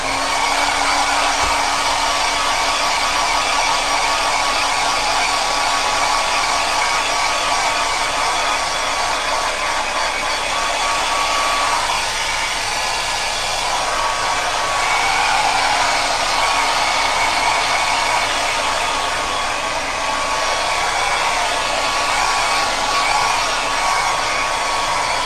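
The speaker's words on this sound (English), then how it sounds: "I'm going to dry it off quickly with a hairdryer" Hairdryer blowing on a gel press print, a loud continuous whirring hiss with a steady whine that holds unchanged throughout, alone with no talk.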